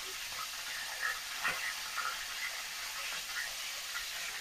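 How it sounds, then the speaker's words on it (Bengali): Pangas fish head frying in hot oil, a steady hiss of sizzling oil with faint small pops and crackles throughout. "মাথাটা আমি সুন্দর করে ফ্রাই করে নিচ্ছি"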